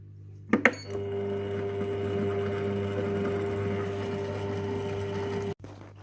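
A Compact Cook Pro M6 multicooker runs a cooking program for chicken blanquette, giving a steady, even mechanical hum after a couple of brief clicks near the start, then cutting off abruptly near the end, with no talking.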